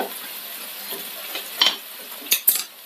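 Sliced onions hit hot coconut oil in a pan for a red chicken curry, giving a soft, quiet sizzle broken by a few sharp crackling pops toward the end.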